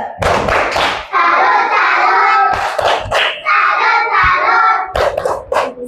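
A school class performs a 'tepuk salut' clapping cheer: loud bursts of rhythmic hand claps alternate with children's voices chanting together in unison.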